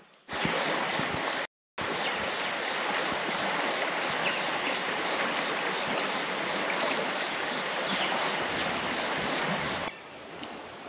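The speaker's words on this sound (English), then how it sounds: "So I'm right here by the Etowah River." Etowah River water flowing steadily, a loud continuous broadband rush of moving water with a brief dropout near the start and no talking.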